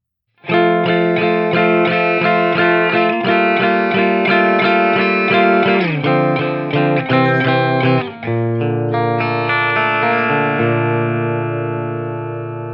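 Loud electric guitar through a Haggard Audio Gnarled pedal at maximum distortion and a JMP 2203 amp sim strums a run of chords, then lets the final chord ring out and slowly fade.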